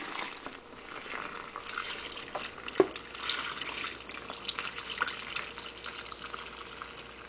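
Hot water is poured out of a bowling ball jacuzzi spa, making a faint, steady splashing and trickling hiss with one brief sharp knock partway through and no speech.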